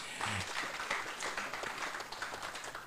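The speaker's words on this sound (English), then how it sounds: "I think Mr. Gasta Bukenya deserves a big round of applause." Faint, distant applause from the audience at an international oil and gas summit in Uganda, a soft continuous patter of clapping across a large hall.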